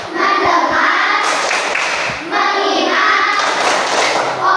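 Schoolchildren in a classroom clap out a rhythmic clapping game, bursts of fast patterned claps filling the room, loud and close with children's voices mixed in.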